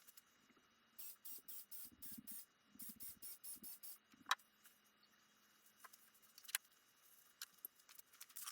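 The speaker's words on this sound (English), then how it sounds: "So there I was using compressed air" Compressed air blowing in short, repeated bursts over aluminum aircraft elevator hinge brackets during an RV-10 build, about a dozen hissing puffs in quick rhythm, followed by quieter ticks and small handling noises.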